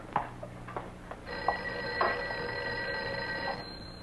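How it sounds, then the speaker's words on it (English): Telephone bell ringing in a 1959 film scene: a sustained metallic electric ring after a few faint ticks and knocks, moderately loud and steady with no talk during the ring. "I think your phone is ringing."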